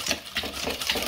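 Baking soda and flour are mixed together in a bowl for cookies. A few light clinks and soft scrapes come close up in a quick, loose rhythm.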